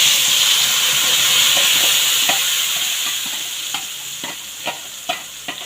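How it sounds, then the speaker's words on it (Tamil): A ground masala paste of onion, tomato, chilli powder and tamarind is stirred into hot oil. The sizzle and hiss are steady and close, and sharp spoon scrapes and clicks grow more frequent toward the end. "இதை இப்போ இந்த எண்ணெயில் மிக்ஸ் பண்ணிக்கலாம்."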